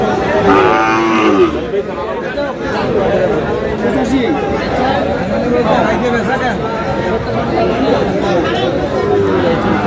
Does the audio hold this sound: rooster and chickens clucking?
no